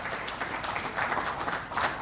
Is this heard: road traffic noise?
no